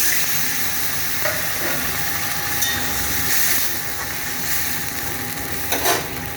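Water poured into a hot cooking pan with potatoes, giving a steady broad hiss and sizzle that runs throughout without pause, loud and close, with no talk.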